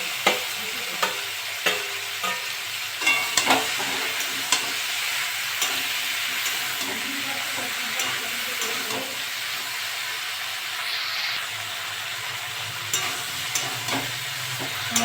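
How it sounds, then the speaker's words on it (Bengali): Prawns fry in a pan for a Bengali okra and prawn chorchori, giving a constant close sizzle and hiss with occasional scraping stir sounds over about fifteen seconds, and no talk. "আমি এবার চিংড়ি মাছগুলো দিয়ে দেবো, একটু ভেজে নেব।"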